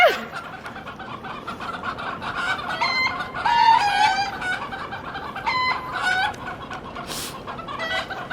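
Chickens, including a rooster, cluck and cackle in New Orleans, a lively stretch of repeated clucks with a few louder, drawn-out calls over faint background noise.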